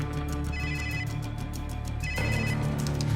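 A mobile phone rings with a repeating electronic ringtone pattern, loud and close, cycling steadily through several bursts with no talk over it.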